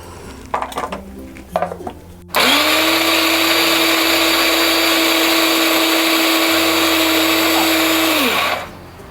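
Mixer grinder whirring loudly and steadily for about six seconds while grinding green masala of coriander, chili, ginger and garlic, after a few soft clatters, then winding down and stopping.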